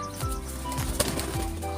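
A racing pigeon's wings flap in rapid fluttering bursts close by, over a steady low hum and noisy background, with a sharp tap midway.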